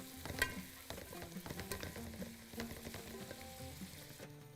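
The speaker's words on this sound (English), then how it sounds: "I'm going to place the curry leaves." Whole spices such as cloves, black lemon and cardamom fry with curry leaves in a pan for a shrimp saloonat stew, a quiet continuous sizzle broken by soft stirring scrapes and clinks.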